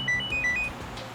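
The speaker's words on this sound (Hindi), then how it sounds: "घंटी बज रही है लेकिन उठा नहीं रहे।" A mobile phone rings from inside a luggage compartment in a CID crime drama episode, giving short, bright electronic beeps in quick succession, fairly clear over a quiet background.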